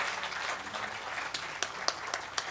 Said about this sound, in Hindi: मैं चाहती हूँ एक बार जोरदार तालियों से विजय जी का हम स्वागत करें